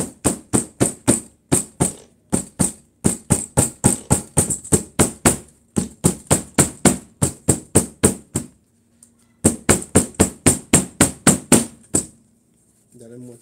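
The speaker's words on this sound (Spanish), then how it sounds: "Aquí está el preciado martillo." A hammer strikes a shoe steadily during the handmade construction of a stiletto-heeled shoe. The blows are sharp, close and rhythmic, about two per second, with one brief pause midway.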